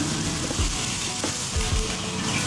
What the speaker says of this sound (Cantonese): 先將啲豬肉放落去爆香下佢先